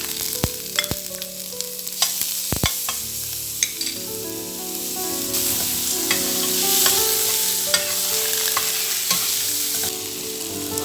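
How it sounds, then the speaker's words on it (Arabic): Bell peppers and garlic sauté in oil in a pan, a continuous close sizzle with frequent spoon scrapes and knocks while stirring. "وهشوح كده الاول الفلفل الرومي دوت في الزيت لحد ما ياخد لون"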